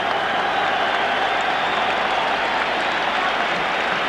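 Football stadium crowd at the 1984 Ireland versus USSR match applauding a substituted player leaving the pitch, steady broad wash of clapping, distant and sustained throughout.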